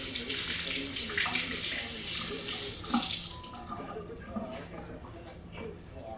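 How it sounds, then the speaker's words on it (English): Carrots being rinsed under a running kitchen tap, a steady splashing stream of water hitting the sink with hand-rubbing noises, fairly quiet and close. "I always wash off my carrots"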